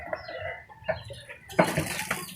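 A chicken being bathed clucks in a few scattered short calls, followed by a louder burst of splashing or flapping near the end, close by with no talk.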